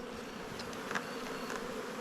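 Italian honeybees fill an opened hive with a dense, continuous buzzing drone, close and steady, with no voices.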